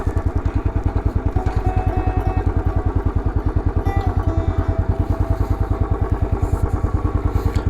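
A Royal Enfield Bullet 500 motorcycle engine idles nearby with a rapid, even thumping beat and mechanical clatter, loud and steady throughout with no talking.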